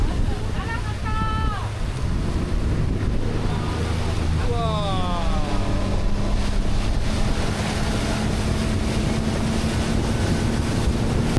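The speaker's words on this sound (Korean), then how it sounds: "지금부터 한롱베 스피드보트에 탑승해 함께 즐겨 보시죠" A speedboat engine drones steadily under strong wind and water noise on Ha Long Bay, Vietnam, with voices chattering and brief whistling tones early on.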